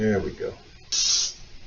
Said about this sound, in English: Spray our pan here, spray it there.